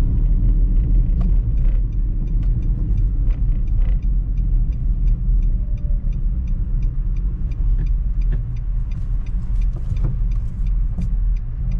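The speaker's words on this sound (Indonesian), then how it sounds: "Kita coba untuk berbelok patah dengan mobil ini" A 2019 Datsun GO Panca's engine rumbles steadily close by as it makes a tight U-turn, with faint ticking and road noise throughout and no voices.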